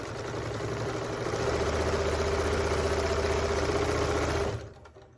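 A sewing machine stitching bag fabric runs as a steady, fast, rhythmic whir and needle chatter at close range for several seconds, then stops abruptly, with no talking.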